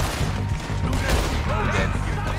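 Gunfire in the video game Red Dead Redemption 2, a dense, continuous barrage of shots mixed with game noise, loud throughout and heard under a player talking.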